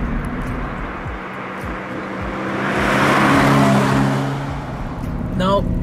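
Toyota 86 sports car driven hard through corners, engine note swelling and fading as it sweeps past, with tire and wind noise and a voice talking over it.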